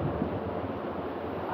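A Mugen electric twin fan blows air in a steady, even whoosh, loud and close with a low rumbling turbulence and no pauses.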